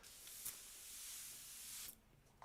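An aerosol spray can hisses in one steady broadband burst of close, moderately loud spraying lasting almost two seconds, cut off abruptly, with no talk over it.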